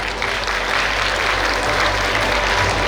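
Audience clapping at a school annual function, a dense, even wash of applause sustained from start to finish without voices.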